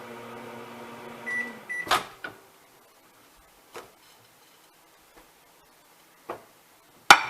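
A kitchen microwave oven hums steadily for a couple of seconds, then stops with a sharp clunk, followed by a few scattered clicks and knocks in near silence.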